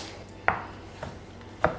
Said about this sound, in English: Peel the paper off and cut it up.